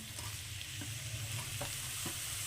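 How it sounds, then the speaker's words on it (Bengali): Capsicum tossed into a hot frying pan for egg chicken fried rice, a soft steady sizzle with a few light stirring scrapes, faint and close. "এইবার আমি এই যে ক্যাপসিকামগুলোকে দিয়ে দিচ্ছি"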